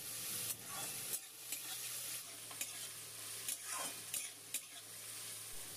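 Chopped onions, four large ones, frying in hot oil with whole spices, a steady soft sizzle with occasional stirring clicks and scrapes of a spatula in the pan, no voices.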